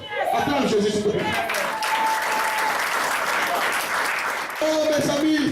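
A church congregation breaks into loud, sustained applause that fills the room, while a voice carries on over the clapping.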